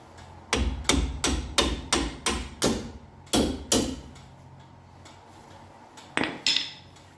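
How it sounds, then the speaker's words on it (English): A hammer strikes metal again and again while a part is knocked loose during a leveling kit install on a 2015 Ram 1500. About ten sharp ringing blows come in an uneven sequence, followed by a pause and two more hits. "May have to hit it with a hammer and knock it out of there."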